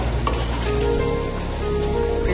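Kasargod-style chicken curry cooking in a covered pan gives off a steady, soft sizzle and bubbling hiss, close and continuous with no talking.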